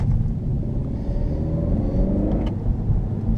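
Interior of a 2017 Honda Civic Hatch Sport with a manual gearbox and non-turbocharged engine, a steady low rumble of the engine and road noise building gently as the car accelerates, with no talk.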